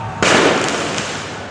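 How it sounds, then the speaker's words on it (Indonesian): Firecrackers go off at a night street protest outside a police headquarters gate in Central Jakarta, a sudden loud crackling burst that rings on with dense popping and crowd noise. "Oh, petasan lagi-lagi dan ada api lagi di depan"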